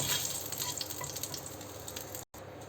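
Eggs, local desi eggs, frying in hot oil for a Bengali egg and potato curry give off a steady, dense sizzle, close and fairly loud, with a brief dropout of silence just before the end.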